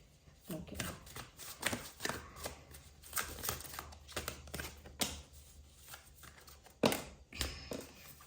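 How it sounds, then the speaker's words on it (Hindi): Tarot cards are shuffled close by in a steady run of soft riffling taps and flutters, with a few sharper slaps between the quieter stretches. "so I have to shuffle again."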